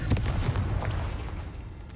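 Confringo spell blast in Hogwarts Legacy, a dense booming burst with rumbling low-end impacts, loud and close, fading over two seconds.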